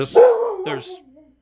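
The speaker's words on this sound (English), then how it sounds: "My dog was barking at something outside." Pet dog barking at something outside in a home, a single drawn-out bark or whine followed by a shorter second yelp, close and fairly loud with no talk.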